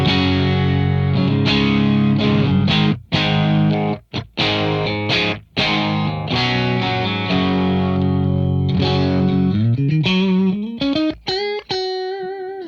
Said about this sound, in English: this is the sound of the rig. This is just the Strat into both the SLO and the Kraken together.